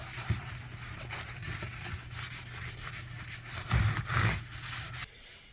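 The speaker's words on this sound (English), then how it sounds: "we're not going to use a very heavy grit at all for sanding" Steady back-and-forth rubbing of fine-grit sandpaper on the wooden neck of a five-string bass guitar, a fine, airy scratching that swells briefly louder near the end before easing off.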